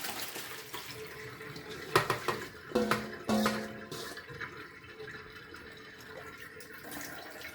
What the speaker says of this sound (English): give it a good swish, get all the bits down from the side, swish really well